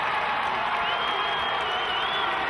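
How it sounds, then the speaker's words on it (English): Large arena crowd at an ice hockey game applauding and cheering in a steady, dense wash of sound, with shouts and voices blended throughout. "Got the applause of everybody in the arena as Ben Olsen left."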